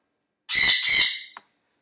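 A pet bird lets out two loud, harsh squawks in quick succession, close to the listener, then a tiny faint chirp after a short pause.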